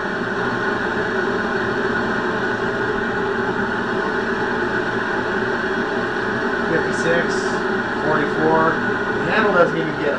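A homemade airplane preheater blows at full blast, a steady, loud, broadband rushing roar that holds unbroken for the whole stretch, with faint higher hiss and minor flutter near the end.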